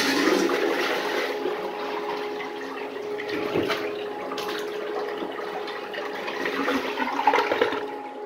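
A miniature 1989 Kohler Highcliff toilet flushes in a continuous, close rush of water that swirls and gurgles steadily for several seconds, with no talk over it.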